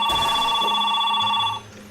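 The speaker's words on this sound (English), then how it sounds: "that's a phone!" A phone rings during gameplay of Spyro: A New Beginning, a steady electronic ringtone with bright sustained tones that holds loud for about a second and a half, then cuts off, leaving faint game sound.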